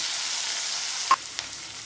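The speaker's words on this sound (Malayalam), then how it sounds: "നല്ല നന്നാക്കി ഇളക്കി കൊടുക്കാം" Broken wheat upma being stirred in a pan gives a soft, steady frying hiss with a single brief spoon scrape against the metal and a fainter tap after it.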